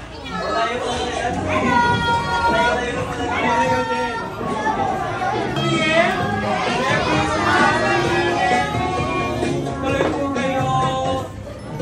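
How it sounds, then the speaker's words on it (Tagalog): Children at a daycare center Christmas party in Antipolo City shout and chatter all at once, a dense, lively crowd of high young voices that stays loud and constant throughout. "Nasa gate pa lang ako, rinig ko na agad ang mga hiyawan nila sa loob."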